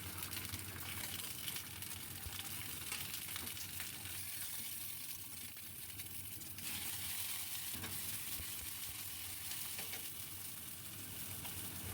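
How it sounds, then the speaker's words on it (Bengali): Sliced pointed gourd fries in mustard oil as a faint, even, continuous hiss with a soft textured crackle throughout, heard alone with no voices. "কেটে ধুয়ে রাখা পটলগুলোকে অল্প করে ভেজে নেব।"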